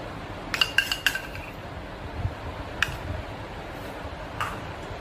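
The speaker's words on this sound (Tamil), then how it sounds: "இதை நல்லா மிக்ஸ் பண்ணிக்கோங்க." A spoon clinks against a bowl while room-temperature ghee is mixed for wheat jaggery biscuits: a quick cluster of light metallic taps near the start, then a couple of isolated clinks, close and quiet.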